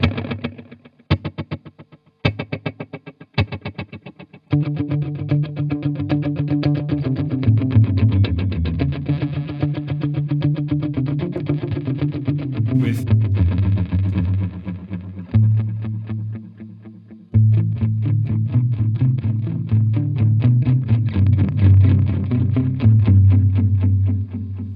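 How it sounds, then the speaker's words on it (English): Electric guitar played through a Boss DD-200 delay pedal set to tape delay, a few sharp plucked chords at first, then sustained chords and melodic phrases with warm trailing repeats, close and loud, no talking. "obviously there's like a tape delay on here as well."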